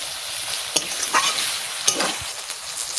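Meat, mutton or chicken, being sautéed and stirred in a pan, with a steady close sizzle and several sharper scraping stirs cutting through it.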